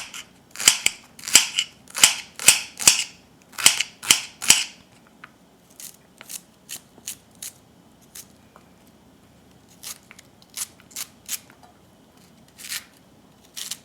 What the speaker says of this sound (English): Cut up the green onions into any shapes you want,